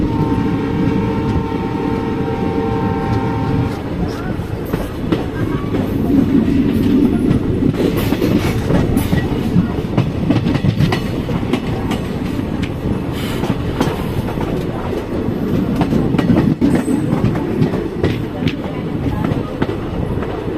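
Passenger train on the Kathgodam–Moradabad line rolling along the rails, a continuous loud rumble with rhythmic clickety-clack of wheels over joints and occasional squeals, heard from inside the carriage with voices talking over it.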